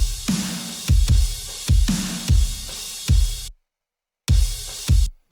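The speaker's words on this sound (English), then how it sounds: "I got this sample, which is just real like metal drums" A metal drum sample from Splice, heavy thudding kicks under bright, harsh metallic crashes, repeating in a steady pattern, then cutting off to silence before two more hits.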